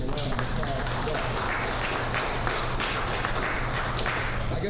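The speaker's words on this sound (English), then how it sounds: "So we want to definitely give them a round of applause for that." An audience at a community event in College Park claps and cheers in a steady, dense wash of applause that lasts the whole stretch without a break.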